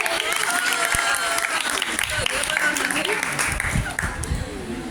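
An audience at a college fresher's party in Zaheerabad claps in a continuous, fairly loud round, with voices and crowd noise mixed in beneath the clapping for about five seconds.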